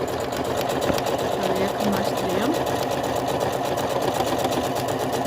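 A sewing machine with a buttonhole attachment stitches a buttonhole, a steady rapid mechanical whirring and clatter running throughout, with faint talking in the background.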